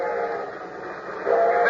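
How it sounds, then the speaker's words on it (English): A steam train whistle wails in a 1930s old-time radio horror drama, a sustained harmonic cry that swells louder toward the end as the train draws near. "The train was coming closer. I could hear its bell. Heard its cry, its whistle crying."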